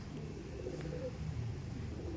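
Pigeons at a loft coo softly and repeatedly over a steady low background hum, the calls faint and blending together without any talk.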